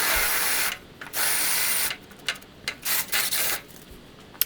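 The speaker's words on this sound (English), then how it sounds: "the fiberglass up against a drill bit like this is so soft" A power drill whines loudly in bursts while drilling soft fiberglass for a custom door panel, cutting off and restarting several times, the grinding bit noise stopping and starting in short irregular runs.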